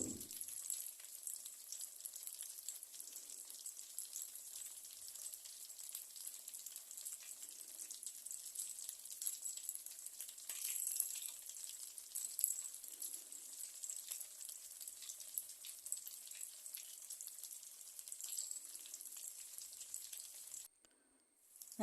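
Quail pieces fry in a pan with a steady, bright sizzle and crackle that runs continuously at a moderate level, dropping off briefly near the end; no one speaks.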